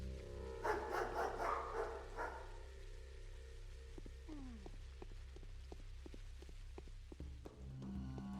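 Dogs barking in the Pathologic video game, a burst of several overlapping barks early on, followed by sparse clicks and tones over a steady low game hum.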